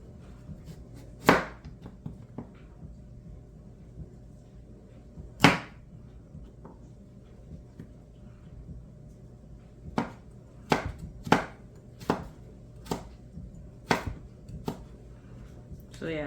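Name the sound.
knife julienne-cutting vegetables by hand for kimchi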